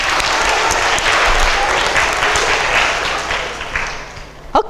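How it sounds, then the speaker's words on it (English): Primary school pupils and audience clap and applaud loudly and steadily, then the clapping thins out and fades, ending with a few scattered thumps. "round of applause for you."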